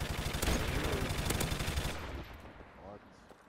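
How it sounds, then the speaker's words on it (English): Rapid automatic gunfire in a Call of Duty Remastered Hardpoint multiplayer match, dense bursts for about two seconds that then drop away to quieter game ambience. "Another guy shooting at me."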